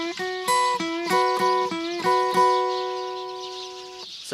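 Electric guitar playing a lick from a song's solo, a run of bright picked and bent notes in a quick rhythmic phrase that ends on a held note that slowly fades, with no talking.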